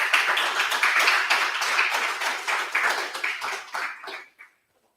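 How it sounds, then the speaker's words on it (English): Audience applause at an artist talk, a steady burst of close clapping from a modest crowd that thins out and stops abruptly after about four and a half seconds. "Can we give her a round of applause?"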